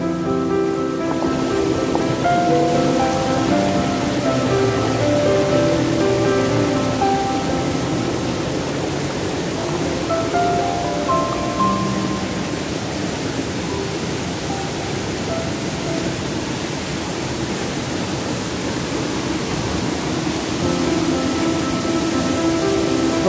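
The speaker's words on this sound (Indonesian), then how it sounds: "ini air terjunnya sobat" Sarasah Kayu Jao waterfall in a rocky, slippery setting pours with a steady, continuous rushing hiss that holds evenly throughout, with no voices.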